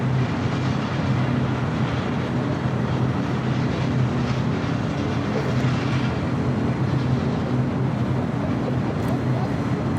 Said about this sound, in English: American Flight 28 taking off to JFK on an A321